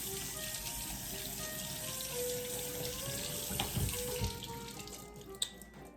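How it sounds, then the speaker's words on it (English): Calamari rinsed in a colander under a running cold kitchen tap, a steady close stream of water splashing and trickling with a few soft clunks near the end. "you're going to rinse it off with cold water to kind of clean it"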